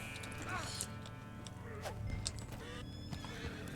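A horse whinnies a couple of times in Red Dead Online over a busy background of animal noises and game sounds, fairly close and moderately loud.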